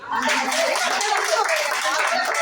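A group of around seventy people claps together at a gathering, producing steady, dense applause that stays loud and even throughout without any voices over it.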